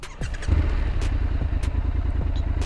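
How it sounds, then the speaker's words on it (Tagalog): A Triumph Scrambler 1200X motorcycle fires up after a brief click and settles into a steady, throbbing idle, loud and close. "Okay, start natin ang motor na to."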